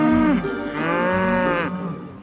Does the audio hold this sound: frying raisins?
no